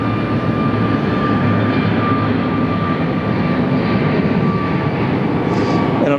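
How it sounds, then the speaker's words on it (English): CFM LEAP-1A jet engines on an airliner spooling up to takeoff thrust at Phoenix Sky Harbor, a loud, steady broadband roar with a faint whine held throughout. "Listen to those LEAP 1As fire up into takeoff thrust."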